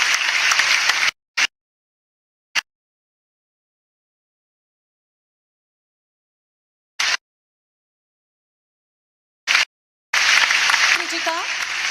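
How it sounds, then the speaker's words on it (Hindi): An audience at a government event with the Chief Minister applauds in brief bursts separated by long stretches of silence, with a heavier spell of clapping at the end as a voice begins speaking. "जोरदार तालियों के द्वारा अभिनंदन, स्वागत, धन्यवाद ज्ञापित करेंगे माननीय मुख्यमंत्री जी का।"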